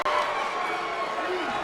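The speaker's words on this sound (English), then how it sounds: "Now he's starting to hear the crowd get behind him." A crowd roars steadily behind a fighter during a Caged Aggression XXV cage fight, a dense, continuous wash of cheering that holds under a commentator's voice throughout.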